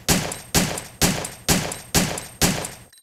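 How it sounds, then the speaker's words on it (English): Quick-fire gunshots in the video game Resident Evil 3: six loud, evenly spaced shots about half a second apart, each with a sharp crack and short decaying tail, ending in silence. "let's try the quick fire maneuver with it"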